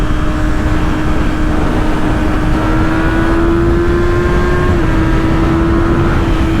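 A 2024 Kawasaki ZX-6R 636 with a quick shifter pulls hard on a highway, its engine a loud steady drone rising in pitch with a brief dip at a quick gearshift, all under constant wind roar.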